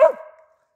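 One short, close dog bark aimed at a squirrel, loud at onset and quickly trailing off.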